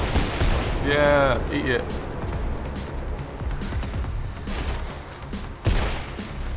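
Gunfire in the first-person video game Mirror's Edge: a few sharp shots in a brief burst near the start, then a single loud crack near the end, with someone talking and game noise around them.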